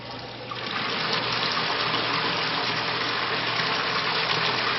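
Water runs steadily through a Bradley Navigator thermostatic mixing valve set to low flow, a gallon or two a minute, a continuous close, even gushing rush that swells up in the first second and then holds, with no talking.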